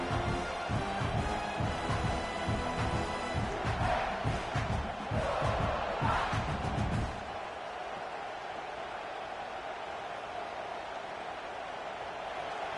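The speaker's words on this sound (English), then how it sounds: "how nice is it to have the home crowd going absolutely bananas?" A home crowd at a college football game roars loudly and continuously, a dense wall of cheering that drops to a quieter hum of crowd noise near the end.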